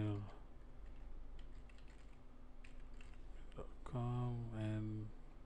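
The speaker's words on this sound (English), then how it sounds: "I'm gonna type WordPress test," Keys clatter on a computer keyboard in quick, soft bursts at moderate distance. A faint steady hum runs underneath, and a short tonal electronic sound rises near the end.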